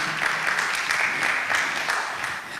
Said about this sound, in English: Oh, are we clapping for him?